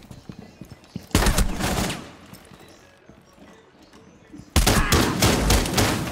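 Two loud, close bursts of shotgun fire in the video game Deadly Omen, each a heavy blast with a ringing tail, separated by a few seconds of quieter background rumble.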